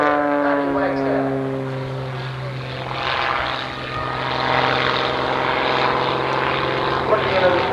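Patty Wagstaff's propeller-driven aerobatic plane climbs over the Oshkosh airshow with a droning, tonal engine hum whose pitch shifts as she pulls up, sustained and fairly loud, with an announcer talking over it.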